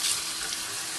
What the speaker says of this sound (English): Then we're going to rinse it really well